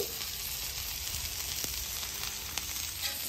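A burger patty sizzles steadily and loudly on a flat griddle, a dense continuous frying hiss with a few faint pops and ticks, close up and without talking.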